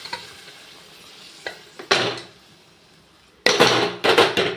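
Cooked mutton curry poured into a pan and stirred, loud bursts of sizzling and scraping with quieter gaps between, close and without talk.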